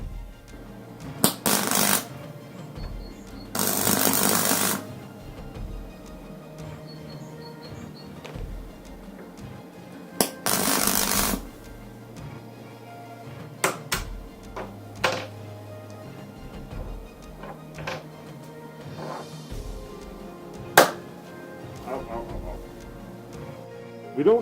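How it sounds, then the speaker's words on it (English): Welding and grinding on a quick clamp being repaired, heard as bursts of harsh broadband noise of a few seconds each, set among scattered clanks and taps from the workbench. "I'm gonna add a bit of weld, tiny bit of weld here, and then grind it back down to the correct shape"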